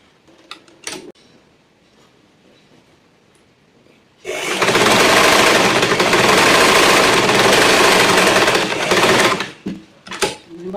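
A sewing machine runs steadily for several seconds, stitching a pencil skirt seam, loud and close, with quiet handling sounds before and after.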